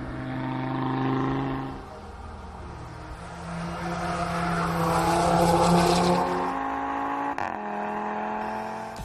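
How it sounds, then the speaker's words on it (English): A 270 kW Audi RS3 hatchback engine revs and accelerates with a rising, falling roar, and tyre squeal layers in through the middle. A brief break is followed by the engine climbing again, loud and close. "Meet the 270 kilowatt Audi RS3."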